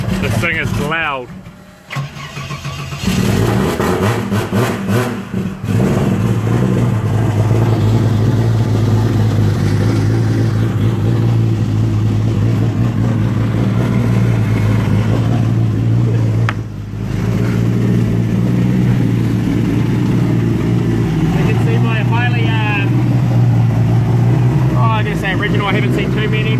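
A loud car engine runs and revs continuously, its throaty low rumble sustained for most of the time while people talk over it.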